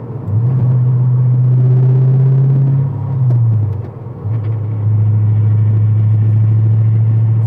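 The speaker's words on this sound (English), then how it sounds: "Curious how loud the exhaust is going to be for the camera. It's a little louder than I would like it to be." An LS2 V8 swapped into a Porsche 911 drones loudly through its exhaust while driving, a steady low rumble that dips briefly as the revs change, then settles back into a strong cruising hum.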